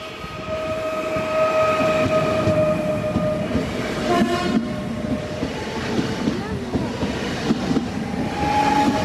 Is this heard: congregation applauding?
no